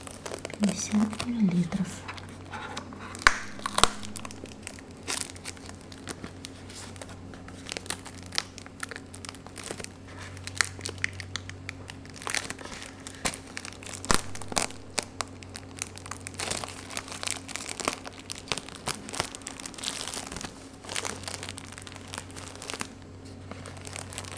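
Thin plastic film crinkles and rustles steadily, close up, with soft intermittent crackles and occasional sharper snaps against a low background hum.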